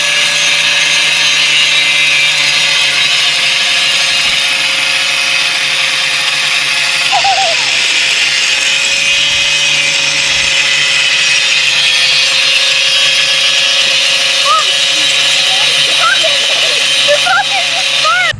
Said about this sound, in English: Dad's cutting rebar